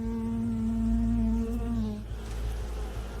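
A hornet flies close to a beehive, a steady near buzzing drone that holds for a couple of seconds and then thins into a softer hum.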